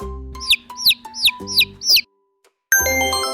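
A baby chick in a toddler animal-guessing game gives five quick, high, downward peeps in an even rhythm, then a short pause and a bright tinkling jingle.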